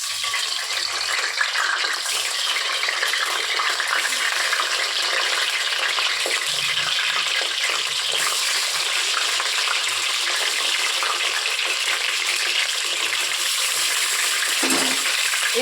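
Eggplant pieces for a Bengali begun jhal fry in hot oil with a steady, loud sizzle, broken by occasional scrapes and rattles of stirring in the pan; no one speaks.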